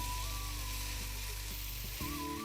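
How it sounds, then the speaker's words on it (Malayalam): Onion frying in coconut oil in a pan for a Kerala chena amarakka thoran, a soft continuous sizzle with a faint tonal hum underneath, quiet and steady, without speech. "ആ ഉള്ളി അതുമായിട്ടൊന്ന് കിടന്നങ്ങ് ഫ്രൈ ആവും അല്ലേ?"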